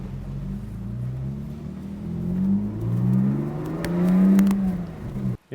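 A lowered Lexus IS200 drives around a car park, its engine note steady and droning before swelling into a couple of louder revs near the end, heard close with no talking.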